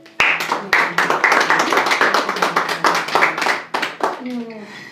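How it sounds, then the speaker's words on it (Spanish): Congregation clapping in a church service, a dense run of handclaps through most of the stretch under a voice, fading near the end. "Vamos a dar un aplauso a Dios."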